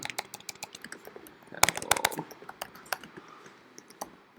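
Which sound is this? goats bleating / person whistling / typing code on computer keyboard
typing code on computer keyboard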